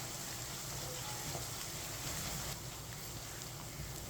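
Ginger and garlic frying in a pan for about a minute while being stirred with a spoon, giving a steady, soft sizzle that runs quietly and evenly through the moment.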